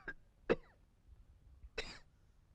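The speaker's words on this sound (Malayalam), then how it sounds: "നിന്റെ ചുമയൊന്ന് നിർത്ത്" Three separate coughs from one person, spaced apart and fairly close, in a late-night phone-call scene from a Malayalam film.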